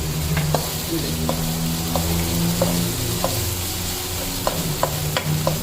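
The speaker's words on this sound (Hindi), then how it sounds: "मैंने अब टमाटर डाल देंगे जो हमने बारीक बारीक छोटे छोटे चॉप किए हैं ताकि जल्दी से ये भून जाए" Finely chopped tomatoes fry with ginger and garlic for beef paya, a loud continuous sizzle up close, punctuated by regular spoon clicks against the pot, with a low hum beneath and no talking.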